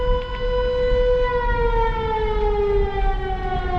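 A loud air raid siren wails continuously in Poltava, its long steady tone sliding slowly downward in pitch, with no voices.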